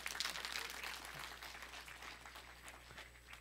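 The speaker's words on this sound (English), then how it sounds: "Can we give the Lord applause for Zoo?" A church congregation giving applause, a soft scattered patter of many hands clapping that fades gradually over a few seconds, heard from a distance against a low steady hum.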